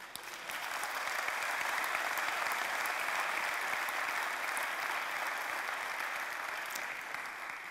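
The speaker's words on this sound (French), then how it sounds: "je pense qu'on peut les applaudir" An audience at a business federation plenary session claps in steady, sustained applause lasting about seven seconds, even and moderately distant with no voices on top.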